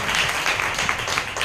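A congregation claps in praise of God at a Christian worship gathering, with dense, sustained applause filling the short moment.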